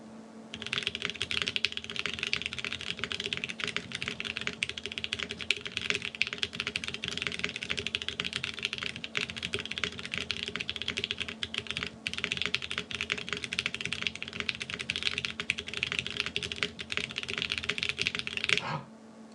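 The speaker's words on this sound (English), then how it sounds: "let's end this with another typing test." Fast, steady typing on a KBDFans Epoch 80 TKL keyboard, built as a modern Dolch Pac, with a dense, continuous stream of close keystrokes that barely pauses for almost twenty seconds.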